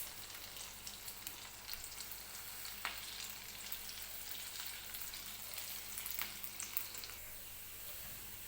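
Moong dal kachori filling is stirred in a pan over a low flame. A soft, continuous sizzle carries faint, irregular scraping clicks from the stirring, with no talk.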